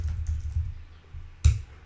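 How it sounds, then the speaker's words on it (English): Keys on a computer keyboard tapped softly in a quick few strokes, then one sharper, louder press near the end, close and quiet with no voices. "So I just start typing"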